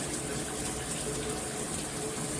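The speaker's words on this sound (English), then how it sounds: "Great flow. Yeah, great little shower." Water runs from a Hibbent all-metal 10-inch high-pressure rainfall shower head as a steady, full, broadband hiss that stays even throughout, with no voices.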